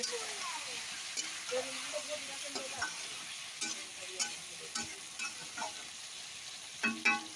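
Potatoes with chilli, onion, ginger and garlic frying in a pan, a steady sizzle broken by repeated scrapes and clinks of stirring, close and moderately loud.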